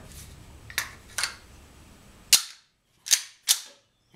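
A BBM Bruni GAP alarm pistol, a Glock 17 replica, fires blanks: several sharp, close cracks, a few softer ones first, then three louder reports spaced about half a second apart.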